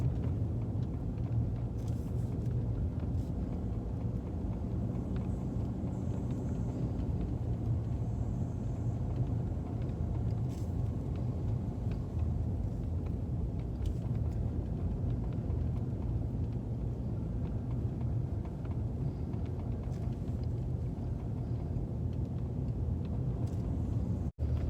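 Steady low road rumble and engine drone inside the cabin of a 2002 Lexus RX300 while driving, a constant broadband hum at even loudness with no talking for the whole stretch.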